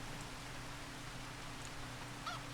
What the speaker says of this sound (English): Oh, then we're going to wait for the rain to stop.